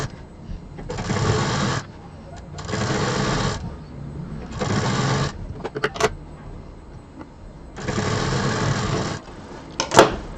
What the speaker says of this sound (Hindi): बस इसके बगल में रखना है और स्टार्ट कर देना है सिलना